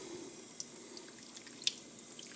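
Faint trickle of running water with small drips and splashes, steady and quiet, as gooey contents from freeze pack bags are hit with water.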